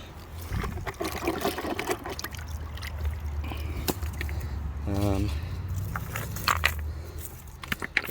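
Water splashes and trickles over gravel and rocks as they are washed off for gold panning outdoors, with scraping and knocking. A person talks over the splashing.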